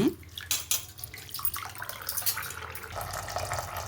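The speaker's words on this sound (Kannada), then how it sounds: "ಈಗೆಲ್ಲ ಚೆನ್ನಾಗಿ ತೊಳ್ಕೊಳ್ತೀನಿ" Soaked rice and lentils for dosa being washed by hand in a vessel of water, with steady splashing and sloshing and a running tap, close and continuous, no voices.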